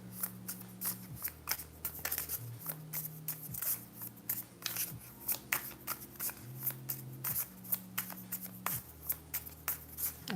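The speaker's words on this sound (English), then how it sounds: "I was just in the habit of shuffling." Tarot cards being shuffled repeatedly, giving quiet, close riffling and clicking bursts in a steady irregular rhythm over a low background hum, with no talking.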